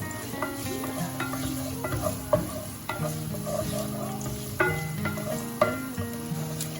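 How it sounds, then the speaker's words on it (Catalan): Garlic and ham sizzle steadily in a hot pan for a vegetable stew, close up, with repeated scraping stirs of a utensil against the pan and no talking. "Mentre fregim l'all amb el pernil."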